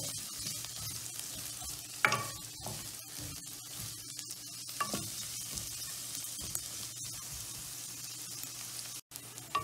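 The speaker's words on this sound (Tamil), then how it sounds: "இது நல்லா கோல்டன் ப்ரௌனாக ஆற வரைக்கும் வதக்கணும்." Onions sautéing in hot oil toward golden brown for moth bean masala, giving a continuous soft sizzle with intermittent stirring clinks and scrapes, no voices.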